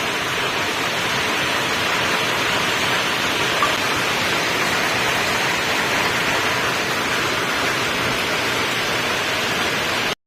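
Heavy rain pours down steadily in a dense, even hiss that stays constant and fairly loud throughout, with no voices.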